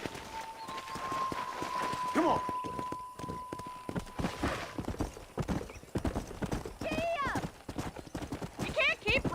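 Horse hooves clip-clop steadily as a rider travels in the Red Dead Redemption video game, with a brief whinny, close and clear under voices talking over the ride.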